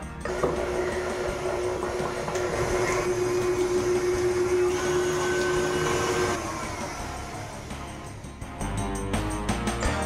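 A stand mixer with paddle attachment creams butter for a fruitcake: a steady, close motor whir with a rhythmic mechanical drone, shifting pitch slightly midway and dropping near the end as the speed changes.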